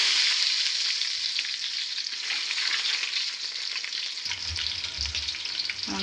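Sliced onion crackling steadily in hot oil, with bay leaf, in a biryani pan; a dense, continuous sizzle holds close throughout, and a low rumble joins near the end.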